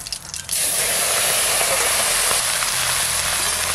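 Small pond fish hitting hot oil with dried red chilli and cumin, a sudden loud burst of sizzling and spitting after a brief quieter start, then a steady, dense, close frying hiss throughout.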